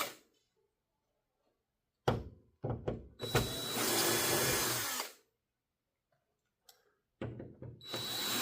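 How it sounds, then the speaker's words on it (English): Power drill removing screws from the back of a 65-inch TV, several short whirring bursts and a longer sustained spin, loud and close, separated by silent pauses and small clicks. "You're going to want to take these screws out."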